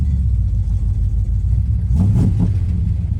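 A deep, rumbling V8 in a 1968 Dodge Coronet with a glass pack exhaust idles loudly nearby, then briefly revs with a throaty burble before settling back to a low rumble.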